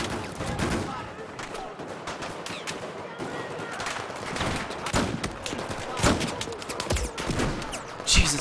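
Heavy gunfire crackles throughout a Battlefield 4 firefight, dense overlapping shots and bursts from many directions with sharp louder cracks standing out near the end.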